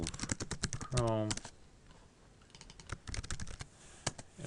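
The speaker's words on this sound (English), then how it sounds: "you can double click, and then you can type in here" Computer keyboard typing in quick bursts of close, crisp key clicks, with a brief pause in the middle before the tapping resumes.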